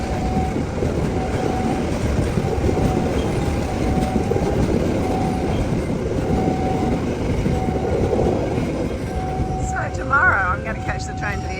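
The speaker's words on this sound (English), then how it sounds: "The train to the airport" A train on the airport line in Medan rumbles past close by in a continuous loud roar with rhythmic wheel clatter and a recurring tonal hum, while a few bird chirps come through near the end.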